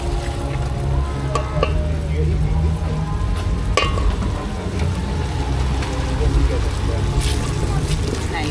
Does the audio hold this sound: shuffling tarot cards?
no